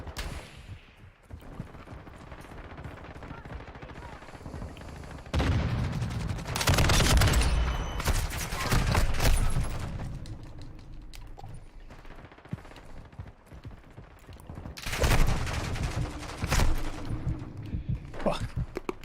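Video game gunfire from Call of Duty: Modern Warfare II multiplayer, with bursts of automatic rifle and machine-gun fire in several loud stretches between quieter periods of distant shots and game noise, with someone talking over it.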